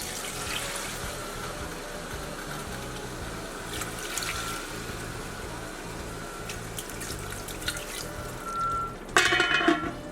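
Water pours steadily into a soup pot with beef for several seconds, a continuous splashing stream close by, ending in a louder brief clatter.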